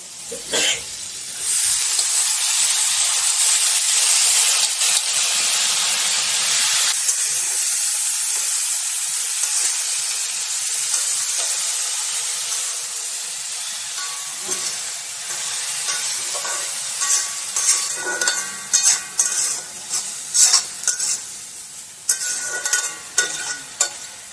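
Leafy greens hit a hot pan of fried spices with jackfruit seeds and set off a loud, steady hiss and sizzle. It fades slightly before a spatula begins clattering and scraping at close range in uneven strokes.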